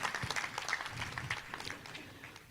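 Audience applause at a World Milk Day dairy nutrition event, a steady close patter of many hands clapping throughout, moderately loud with no talk over it.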